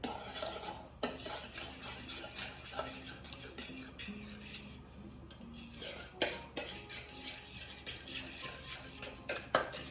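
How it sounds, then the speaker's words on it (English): Utensil rhythmically whisking a chocolate chip cookie batter in a bowl, a steady scraping stir with clinks against the sides, continuous and close for the whole stretch with no talk. "And then whisk briefly"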